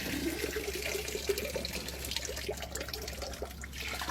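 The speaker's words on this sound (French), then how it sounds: "Et la fontaine fonctionne." Water running steadily from a roadside public fountain along the Nakasendo trail, a continuous splashing trickle with a gentle burbling texture, close and moderately loud with no talking.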